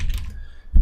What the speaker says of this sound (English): I'm typing in Minnow support